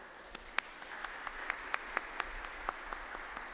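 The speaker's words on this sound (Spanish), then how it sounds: "vamos a dar un fuerte aplauso a las mamás que hoy están con nosotros" Scattered handclaps from a church congregation honouring the mothers, sparse and fairly faint, individual sharp claps spaced irregularly over a quiet room.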